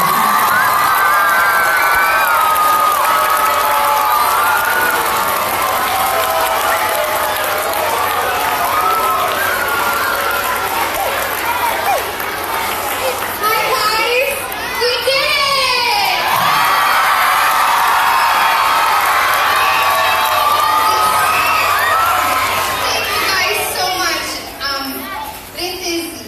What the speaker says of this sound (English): let's give Ms. E one more right nice round of applause